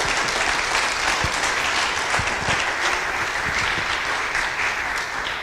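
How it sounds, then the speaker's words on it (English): An audience claps continuously and with strong energy at a village manager search event as a contestant is called up front, the applause dense and sustained throughout. "Round of applause as she makes her way up front here."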